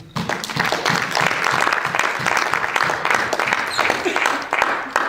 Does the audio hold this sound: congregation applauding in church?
yes